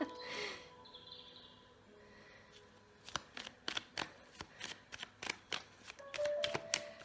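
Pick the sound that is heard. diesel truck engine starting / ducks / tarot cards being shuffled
tarot cards being shuffled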